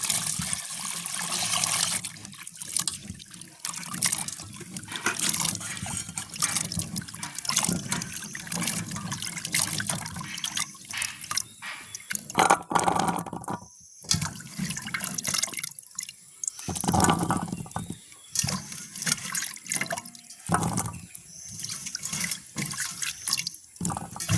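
Cherries, about half a kilo, are washed in water, with steady splashing, dripping and running-water sounds that continue close up for over twenty seconds, broken by brief pauses.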